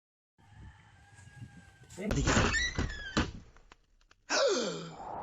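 A door opens with a heavy thunk and creak, then rattles and bangs as it swings, with a second loud scrape near the end and faint background noise before it.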